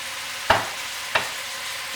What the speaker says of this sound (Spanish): Ahora inmediatamente le voy a echar el ketchup.